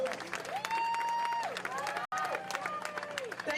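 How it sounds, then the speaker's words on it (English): Clapping breaks out at an outdoor protest in Takoma Park, welcoming a Prince George's County councilwoman. The applause is fairly faint and mixed with cheering and voices from the crowd, with a brief cut partway through. "Let's give her a round of applause for coming to Tacoma Park to unify with us."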